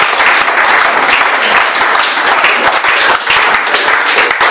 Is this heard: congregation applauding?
yes